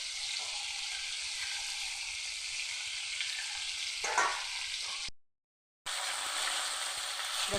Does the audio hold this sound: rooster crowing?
no